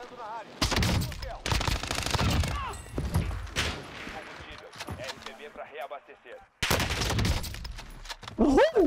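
Rapid gunfire from the Wellington weapon in a video game, loud bursts of shots repeating across the clip with energetic talking layered over and between the volleys.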